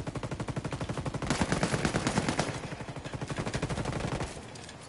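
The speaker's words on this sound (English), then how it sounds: "He's shooting." Rapid automatic gunfire in a video game, a fast, even stream of shots that is loud and close and runs almost the whole time before easing off at the end.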